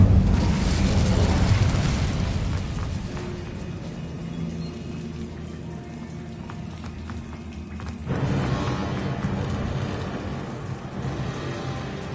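An Incendio fire spell cast in Hogwarts Legacy: a loud whooshing burst of flame at the start that settles into a sustained roaring crackle, swelling again near the end, with no speech.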